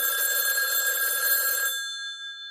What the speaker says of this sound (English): So a phone call is made.